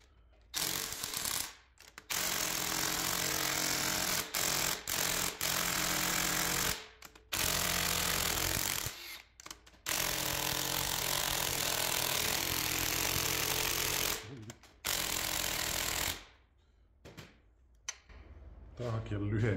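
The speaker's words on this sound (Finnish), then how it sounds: "Paukutetaan pultit irti." Impact wrench hammering stubborn, slightly corroded bolts loose on a Mazda FE engine, loud repeated bursts of rattling blows separated by short pauses, with a voice speaking between them.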